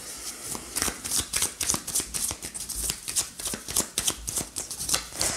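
Tarot cards shuffled by hand for a reading, with quick, rhythmic riffling and soft slaps repeating close up for several seconds without any voice.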